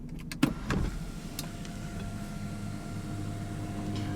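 An electric sunroof motor on a 2017 Subaru Outback Limited 2.5 L runs as a steady, low mechanical whir inside the cabin, preceded by a couple of soft clicks from the controls.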